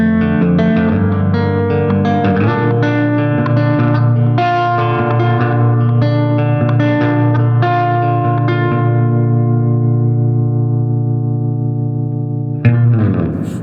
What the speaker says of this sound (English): let's turn this reverb back on